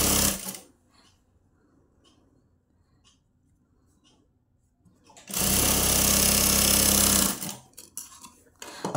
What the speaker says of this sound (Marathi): आता ह्याला आपण डबल शिलाई द्यायची आहे।